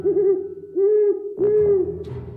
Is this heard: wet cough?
no